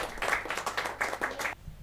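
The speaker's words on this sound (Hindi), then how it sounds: "जोरदार तालियों के साथ हमारे नई मानद निदेशक जी का" A small audience at a poetry gathering claps to welcome the new honorary director, about seven or eight rhythmic, fairly close bursts of hand clapping that stop abruptly, with no talk over them.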